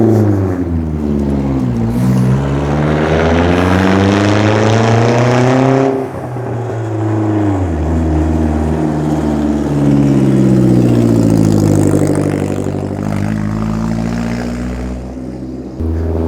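A loud, raw engine in an 1980s MG with a Miata engine swap and no exhaust, revving up and down in long sweeps as it drives close by.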